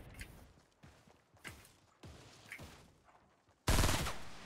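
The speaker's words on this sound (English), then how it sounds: "I need to shoot down this tree" Gunfire aimed at a tree in Fortnite, heard as a series of separate sharp shots spaced about half a second apart, then a much louder blast at the end. No voices.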